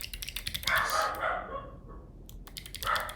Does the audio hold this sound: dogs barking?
yes